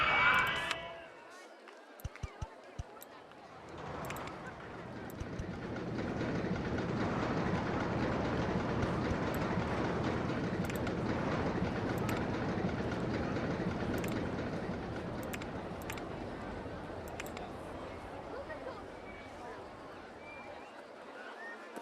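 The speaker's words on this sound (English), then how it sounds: "That's a long coaster train." A long roller coaster train in OpenRCT2 rolls along its track with a steady rumbling, clattering run that swells and holds for many seconds after a few sharp clicks, with a faint crowd murmur behind.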